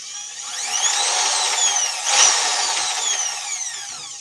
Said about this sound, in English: I got my hammer drill here, which is exactly what we need for this job. And I'm just going to make a small hole here.